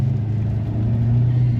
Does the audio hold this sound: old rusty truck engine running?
yes